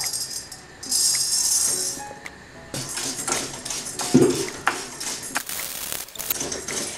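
Rice grains rattle and scrape against a pan as they are stirred and dry-roasted, with scattered clinks of a utensil on metal; no talking.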